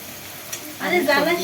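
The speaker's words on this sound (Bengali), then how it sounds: "এরপর আমি কড়াইয়ে বাটার দিয়ে নিয়েছি। বাটার দিলে ফ্রাইড রাইসটা স্বাদ অনেক ভালো লাগে। তারপর কুচি করে রাখা পেঁয়াজ এবং রসুন আর আদা দিয়েছি।" Chopped onion, garlic and ginger go into butter in a kadai for vegetable fried rice; after a quiet moment a sudden close sizzle bursts up and keeps crackling.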